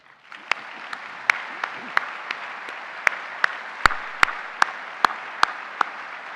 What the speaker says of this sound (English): Please join me in a round of applause for all they've done to make this conference a success.